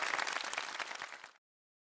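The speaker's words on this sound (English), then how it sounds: "I stood up, acted like a member of the audience, and gave her a huge round of applause." Audience applause in the visual novel game Memories Off: a dense burst of many hands clapping, loud and steady, fading over about a second and a half before cutting to silence.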